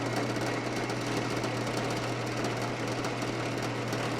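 Steady, dense mechanical grinding of a drill boring into material, continuous and close with a constant droning hum underneath.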